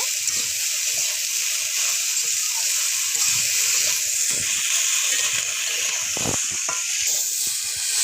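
Dried pona fish with Malabar spinach greens and turmeric sautéing in a pan, giving a steady, close sizzle with intermittent scraping stir strokes throughout.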